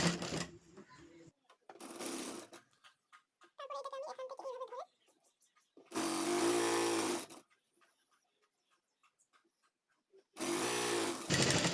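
A sewing machine stitching a prayer hijab, running in several loud bursts of fast rhythmic whirring separated by quiet pauses, close by, with a brief patch of talking between bursts.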